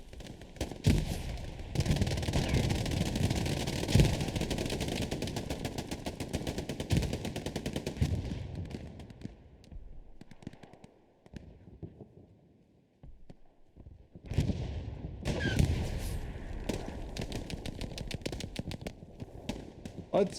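Heavy combat in the video game Hell Let Loose: dense, loud bursts of gunfire and thudding grenade blasts that run steadily, thin out and fall nearly silent midway, then surge back as firing resumes.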